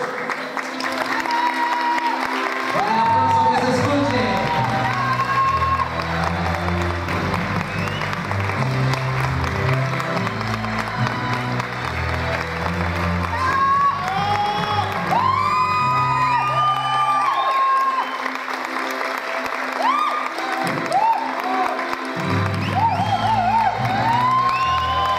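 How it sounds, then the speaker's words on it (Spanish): Audience applause with cheers and whoops greets a stage entrance by Hugo y Adriana, sustained and loud for about 25 seconds over strong music, with occasional shouts from the crowd. "con el aplauso de ustedes, Hugo y Adriana"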